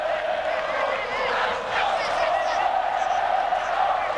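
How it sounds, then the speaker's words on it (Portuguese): Palmeiras supporters singing and chanting in a stadium during a 1999 Torneio Rio-São Paulo match against Vasco da Gama, a steady distant roar of massed voices with occasional whoops, continuous throughout. "A torcida do Palmeiras começa cantando muito, incentivando o time"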